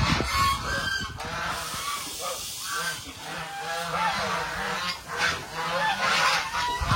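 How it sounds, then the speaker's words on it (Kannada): A flock of white domestic geese honks loudly and repeatedly, many overlapping calls at close range, with some harsher squawks mixed in among other farm fowl. "ಅದ್ರ ಜೊತೆಗೆ ಹೆಬ್ಬಾತು ತುಂಬ ಇದ್ವು."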